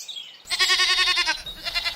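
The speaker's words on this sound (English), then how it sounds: "Goat firefighters?" A goat bleats in a long, wavering, nasal call lasting about a second, followed by a shorter second bleat, close and clear with no talking.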